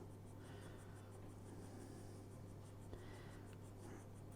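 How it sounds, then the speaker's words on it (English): An HB pencil drawing on paper makes soft, faint scratchy shading strokes, repeated quietly and close over a low steady background hum. "I'm going to come into this area here with the HB pencil."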